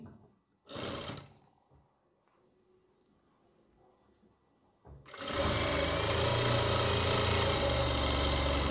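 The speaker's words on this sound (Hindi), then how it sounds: "यहाँ पे हमने लगा ली सिलाई" A sewing machine stitches a pocket onto a kitchen apron. A short whirring burst is followed by a quiet pause, then a long, loud, steady run of close-up motor hum and needle clatter.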